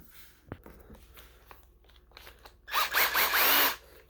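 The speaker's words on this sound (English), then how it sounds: "let's get the hole drilled in there in this bucket for the airline" A few scattered knocks and clicks, then a power drill whines loudly for about a second as it bites through a plastic bucket, then stops.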